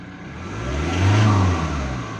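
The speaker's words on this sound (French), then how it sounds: "Le moteur a tourné." A Ford Transit camper van engine runs at a low, steady rumble without jerking, briefly swelling as it revs up slightly, then settling back to idle.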